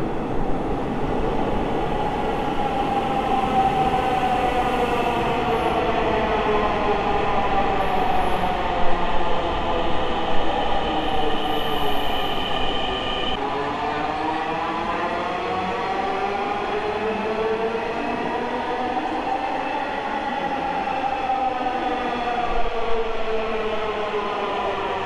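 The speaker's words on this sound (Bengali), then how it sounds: "ওই যে মেট্রো রেল আসতেছে।" A Dhaka metro rail train pulls into the station, its loud electric whine rising and falling in layered tones over a steady rumble, with a brief squeal of wheels as it slows. No one talks.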